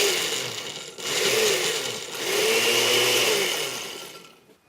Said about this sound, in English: we want to make sure that it's all going to blend up really nice